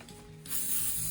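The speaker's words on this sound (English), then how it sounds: "Going to spray a little bit." A spray can hisses onto fabric laid over paper, starting after a brief pause with faint clicks, then a steady close burst of spray.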